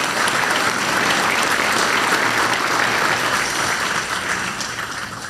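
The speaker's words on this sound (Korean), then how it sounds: "다시 한번 박수 부탁드립니다" Loud, dense applause from a large audience at a Korean presidential event, steady throughout and easing slightly toward the end.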